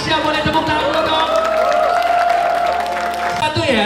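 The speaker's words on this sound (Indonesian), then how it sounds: "Boleh tepuk tangan dulu dong" A store-opening crowd at a Foot Locker shop in Indonesia claps and cheers steadily throughout, a dense wash of applause blended with music and voices.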